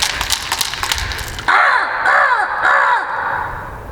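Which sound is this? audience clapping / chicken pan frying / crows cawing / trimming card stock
crows cawing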